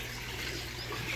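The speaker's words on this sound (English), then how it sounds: "release all the water straight from the bottom like this" Water rushes out steadily from the bottom drain of a koi pond, a continuous, even gush with no talk over it.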